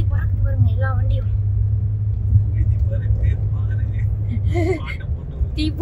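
An off-road safari vehicle drives across Qatar desert sand with a steady, loud low engine rumble, while people talk and exclaim over it.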